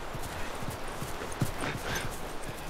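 Rhythmic clip-clop of horse hooves trotting steadily in The Last of Us Remastered, over a background of continuous noise, with a faint voice murmuring underneath.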